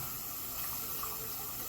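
Liquid pouring steadily into a pan of homemade mushroom gravy, a continuous close watery rush with no talking.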